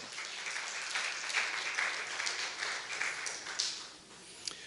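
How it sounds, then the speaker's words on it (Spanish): A church congregation applauds steadily, dense clapping filling the whole stretch with small swells in intensity. "Dale el aplauso al Señor."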